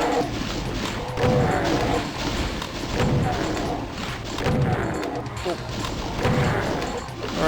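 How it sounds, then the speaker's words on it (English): Repeated close, loud shotgun blasts and monster crashes as imps are gunned down in Doom 2, a dense, continuous barrage of booms and thuds with no gaps of silence. "Got a nice sequence where we just shotgun imps."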